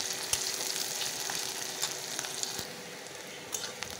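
Chopped onions frying with tomatoes in a hot pan, a steady loud sizzle throughout with occasional light clicks from stirring; no talking.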